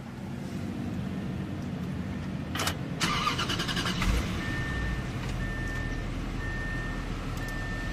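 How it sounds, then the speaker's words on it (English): A 2013 Bentley Mulsanne Mulliner's twin-turbo V8 fires up by push button, with a short crank and a rising rumble that settles into a low, steady idle, while intermittent electronic beeps chime in the background. "Beautiful melodic note from that twin-turbo V8."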